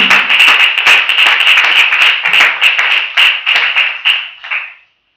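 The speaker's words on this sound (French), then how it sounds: "Let's clap for Jesus." A church congregation claps in dense, rapid rhythm for several seconds, a close, loud burst of many hands that thins out and fades to silence at the end.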